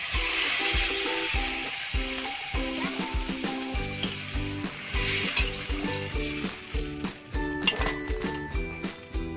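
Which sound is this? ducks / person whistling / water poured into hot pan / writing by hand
water poured into hot pan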